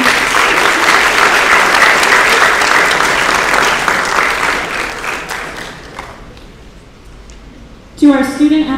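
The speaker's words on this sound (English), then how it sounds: "they deserve a round of applause if they were here." Auditorium audience applauding at a high school athletics awards event, steady dense clapping that fades out over several seconds before a voice begins speaking at the end.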